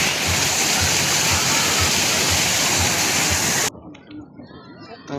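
Water flows in the city in a loud, steady rush, like a strong pour or small cascade, then cuts off abruptly near the end, leaving faint background sounds and someone talking.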